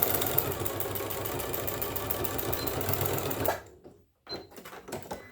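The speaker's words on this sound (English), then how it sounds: "I would do a little bit of extra back stitching because that way you're ensured that it's nice and sewn together" A sewing machine back-stitches fabric for a bottle bag, a fast close rhythmic needle chatter running steadily for several seconds before stopping, followed by a few soft handling taps.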